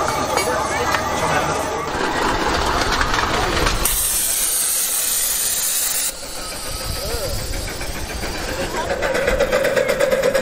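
Steady loud hiss and rushing steam from a class 99 live-steam model locomotive on 7.25 inch gauge track at a club running day, continuous throughout with brief shifts in tone, voices faintly mixed in.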